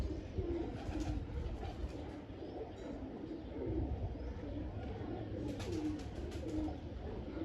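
Pigeons coo steadily in low, murmuring phrases at a loft, with a few soft bursts of wing flutter as birds take off and settle, over a constant background hum.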